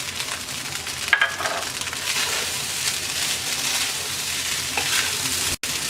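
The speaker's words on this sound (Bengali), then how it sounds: "এবার হালকা হাতে নেড়ে 2 মিনিট রান্না করব" Chicken and vegetable fried rice with spring onions sizzles steadily in a pan, a continuous frying hiss with a few light scrapes of stirring and a brief clatter near the start.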